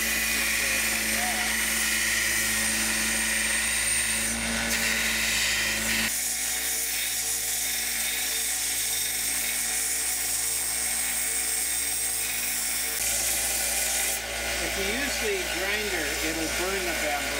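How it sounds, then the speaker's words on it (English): A belt sander grinds and shapes bamboo for a shinobue flute, giving a steady, loud whirring drone throughout with a brief change partway, while a voice talks over it. "you can do that on a belt sander like this"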